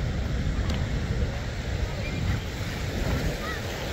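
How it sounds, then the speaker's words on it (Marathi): Waves on the Jaykwadi dam reservoir at Paithan, an earthen dam, heard as a continuous broadband wash of water lapping, with heavy wind buffeting the microphone throughout. "पाणी लाटाच लाटा"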